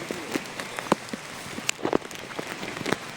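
Light rain patters down in scattered, irregular drops tapping on surfaces nearby, soft and sparse, with no voices.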